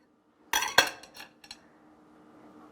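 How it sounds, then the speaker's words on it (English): A knife cuts into crispy keto protein-breaded chicken strips, giving four close, sharp crunchy crackles and scrapes over about a second before fading to quiet. "So I'm going to just go ahead and cut into this. I think you can hear it's a bit crispy."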